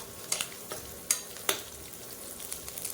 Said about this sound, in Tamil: இப்போ இதில் வந்து கொஞ்சம் கருவேப்பிலை வந்து சேர்த்துக்கிறேன்.